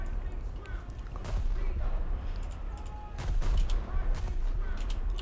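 Naval guns fire in World of Warships, a scatter of deep booms over a continuous low rumble, with a voice talking over the gunfire.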